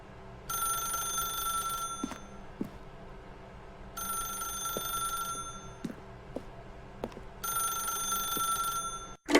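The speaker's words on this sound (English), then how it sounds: "then pick up the phone." A telephone rings in the video game The Stanley Parable, three clear, evenly spaced bursts of bright electronic trilling with short quiet gaps between, over a low room hum and a few soft thumps.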